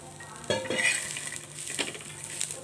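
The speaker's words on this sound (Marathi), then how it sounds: "आता ह्याच गरम तव्यात आपल्याला इथे आपण वटाण्याचा ठेचा बनवतोय तर वटाणे याच्यामध्ये आपण भाजून घ्यायचे" Green peas are stirred and roasted on a hot tava, with a soft sizzle and scraping, clattering stirring strokes close by and no speech.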